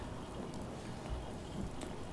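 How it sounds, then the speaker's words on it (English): Rain falls during a Fallout 76 session, a steady diffuse hiss of drops with faint low rumbles beneath, fairly quiet and continuous. "Oh, it's raining."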